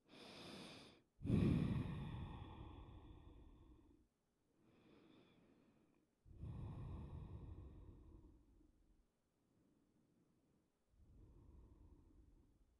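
Slow, deep breathing during a yoga session, several long audible inhales and exhales with quiet gaps between them, close and soft.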